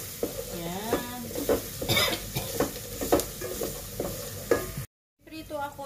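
Chicken feet fry and sizzle in a pan while being stirred, with repeated scraping strokes over the sizzle and a voice faintly audible in the background.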